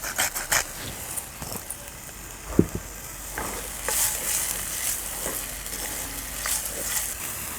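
Onions sizzle steadily in a hot pan while a utensil stirs and scrapes them, with a few sharp clatters against the pan.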